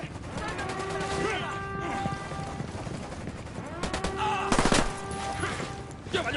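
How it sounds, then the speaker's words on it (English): Rapid bursts of gunfire in a Wild Lands shootout, steady and dense throughout with a heavier volley near the five-second mark, while voices and game music carry on underneath. "Opening fire on these fuckers."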